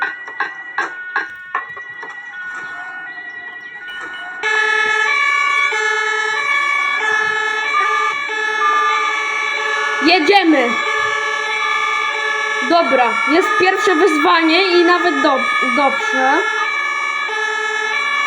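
Fire truck sirens in the Roblox game Emergency Hamburg wail steadily and loudly alongside a horn, with someone talking excitedly over them.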